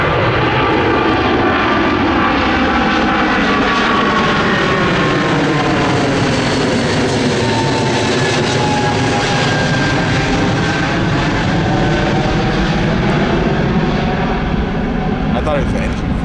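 Loud, continuous roar of United Airlines Boeing 777 jet engines spooling up during a go-around at Orlando International Airport, heard from inside the cabin, a steady broadband rumble with rising whine, passengers talking over it.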